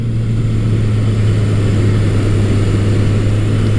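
A Kawasaki KZ1000 motorcycle's 1000cc engine with stock exhaust runs at a steady idle, a loud, constant low hum and drone with no change in pitch and no voices.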